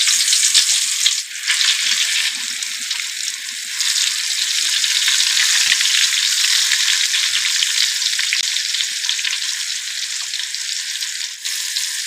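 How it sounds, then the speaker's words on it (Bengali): Spiced pointed gourd (potol) frying in hot oil on a tawa: a loud, dense, continuous hiss of sizzling that holds steady for the whole stretch, close up with no voices. "এখন মুই এই যে মশলা মাখানো পটলগুলো দিয়ে দেবো"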